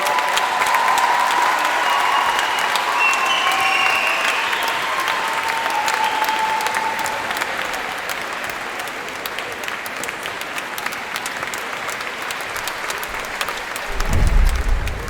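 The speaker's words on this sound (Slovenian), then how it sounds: "tak dan aplavz za Anžeta tudi." Sustained audience applause fills a charity school concert hall, loud and steady, easing slightly midway before a brief low thump near the end.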